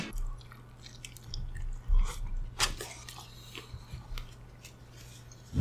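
Close crunchy chewing and biting of Five Guys fast food, with several crisp bites and wet mastication at an uneven pace and no talking.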